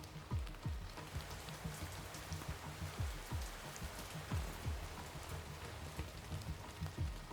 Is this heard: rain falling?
yes